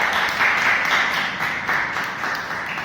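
Audience applause at a Toastmasters club meeting: steady, dense crowd clapping fills the whole stretch at a fairly even level, without speech over it.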